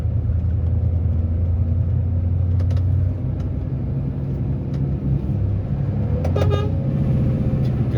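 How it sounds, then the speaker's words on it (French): On a winding road, a car horn gives a few short honks over the steady rumble of the vehicle's engine and road noise. "Klaxon hein, quand même pour avertir."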